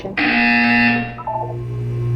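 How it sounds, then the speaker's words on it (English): Loud, harsh electronic buzzer from the game Portal 2, one sustained blaring tone that cuts off after about a second, followed by a softer lingering tone. "You will hear a buzzer."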